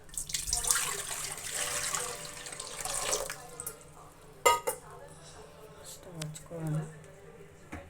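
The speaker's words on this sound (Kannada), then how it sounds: "ಈಗ ಸ್ಟವ್ ಮೇಲೆ ಕುಕ್ಕರ್ ಇಟ್ಕೊಂಡಿದ್ದೀನಿ ಒಂದೂವರೆ ಲೀಟ್ರಷ್ಟು ನೀರು ಹಾಕ್ಕೊತೀನಿ ಅದಕ್ಕೆ" Water splashes and runs into a metal pressure cooker on a stove, about one and a half litres, for a few seconds, followed by clinks of cookware and a person talking.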